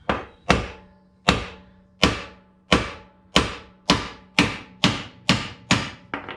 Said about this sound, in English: We're gonna go ahead and give that a tap.